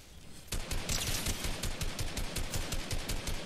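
Rapid automatic gunfire from Fortnite, a loud dense burst of evenly spaced shots starting about half a second in and running steadily to the end, with no talk over it.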